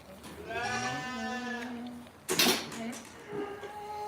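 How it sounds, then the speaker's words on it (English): Sheep bleat repeatedly in a long harmonic call at outdoor feeding time on a dry, frosty morning, close and clear, with a clatter of feed or metal midway and a voice speaking briefly over the flock. "There's a lot of outside feeding going on at the minute with all the sheep and the cows that are outside"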